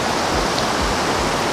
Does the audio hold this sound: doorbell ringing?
no